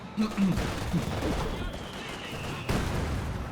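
Mortar blasts and rattling gunfire from the World War II strategy game Company of Heroes 2 boom and crackle throughout, with a heavy impact near the start and another later, partly under a voice talking.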